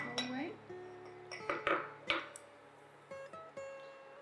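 A spoon stirs cornstarch into an abalone braising sauce in a pot, making a series of close metallic clinks and scrapes against the pot, some sharper knocks among them, with a low background hum underneath.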